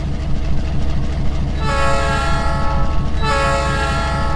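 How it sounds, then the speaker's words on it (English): A K12 horn on a Harvard Railroad train in the Trainz simulator sounds in two loud, steady chord blasts, the first longer and the second shorter, over a rumbling rail background. "No, it's a K12 horn."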